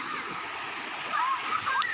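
Water rushes and splashes steadily at Chandoli, a continuous broadband flow like a stream or small fall, loud and close, with a few faint chirps over it and no talk.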